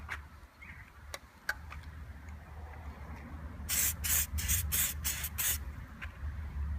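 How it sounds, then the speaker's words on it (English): Wet look tyre shine is sprayed onto a Suzuki Vitara tyre in a quick run of about six short hissing bursts, close by over a quiet outdoor background. "Wet look tyre shine. Anyway, I'll give a coat of this."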